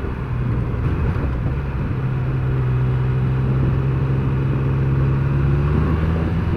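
A 2021 Triumph Speed Triple 1200 RS engine under way, its low steady drone rising slightly in pitch as it pulls, wrapped in wind noise with no talking.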